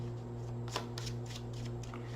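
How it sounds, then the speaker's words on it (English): A deck of tarot cards being shuffled in a quiet room, a series of soft, rapid papery riffles and flutters in close succession over a steady low hum, with no talking. "I'm going to shuffle."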